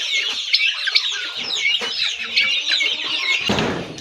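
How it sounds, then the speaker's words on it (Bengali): Busy chorus of young Aseel chicks cheeping and clucking close by, with a brief flutter or rustle near the end. "এখানে আরও আছে আসিল মুরগির বাচ্চা"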